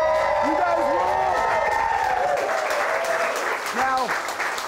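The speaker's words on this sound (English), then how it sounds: "I want to do a big old round of applause for all the people in the crowd" Crowd at a live London Cocktail Week drinks show breaking into sustained, dense applause with scattered cheers, steady and loud throughout, while a voice speaks over it.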